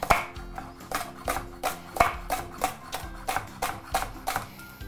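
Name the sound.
chopping parsley with a knife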